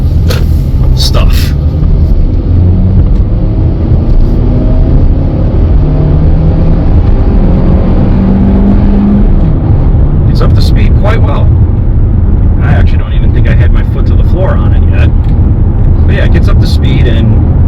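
A 2017 Kia Sportage with a 4-cylinder engine accelerating, a loud close engine hum and road roar climbing in pitch, with someone talking over it.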